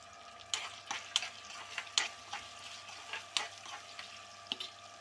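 Curry with turmeric and salt frying in a pan, a soft steady sizzle broken by sharp scraping clinks of a spoon stirring against the metal every half second or so.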